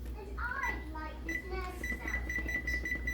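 Kitchen timer being set while cooking homemade spaghetti sauce with herbs: a run of short electronic chirps and beeps at varying pitches, then a steady series of repeated high beeps, clear over a low room hum.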